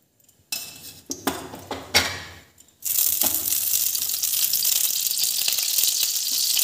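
Chopped cabbage drops into hot oil in a kadai over a high flame, first a few metal clanks and scrapes of the pan and utensils, then a loud, steady sizzle that continues to the end.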